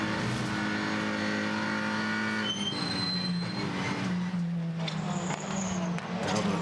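Onboard sound from a touring race car, car 25, during a WTCR race in Slovakia: a steady, loud engine drone with shifting pitch and tyre and wind noise, continuous throughout with no talking.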